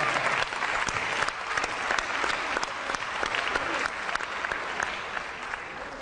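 TV studio audience applauding on a talk show, with dense continuous clapping at moderate level and a few sharper claps standing out from the even roar.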